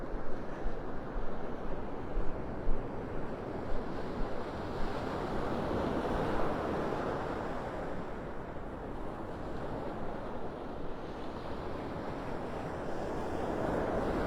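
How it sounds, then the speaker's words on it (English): Ocean waves surge and wash continuously onto shore, a broad steady roar with gentle swells, plus some wind buffeting the microphone. "Love the sound of Mother Ocean."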